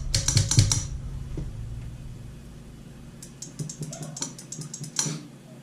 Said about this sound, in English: Cycle it, make sure the switch clicks like it should.